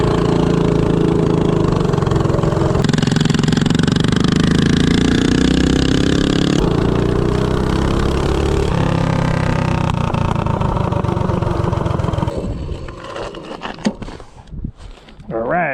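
A minibike with a DuroMax 208 engine, 4-to-1 ratio and 15-tooth clutch, accelerating from 0 to 30: a loud, rising engine roar for about twelve seconds that then drops to idle sputters.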